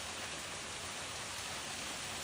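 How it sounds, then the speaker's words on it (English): Heavy rain driven by strong wind on a suburban street, with a tree swaying, forms a steady, even hiss of downpour with no breaks, fairly soft and uniform throughout. "This footage shows a tree swaying violently as heavy rain and strong winds move through a suburban street."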